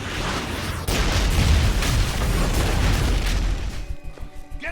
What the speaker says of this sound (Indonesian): ia mengabarkan kedatangannya dengan satu rentetan ledakan kecil di sekeliling rumah Samidi